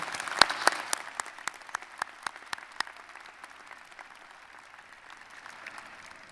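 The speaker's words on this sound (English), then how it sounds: "Another round of applause for our commencement speaker." A small group at a college commencement ceremony claps for the speaker, starting with a few sharp, loud claps and then trailing off into lighter, scattered clapping.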